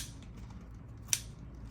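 A single crisp snip of scissors or clippers cuts a flower stem, close and brief, over a quiet background with no speech.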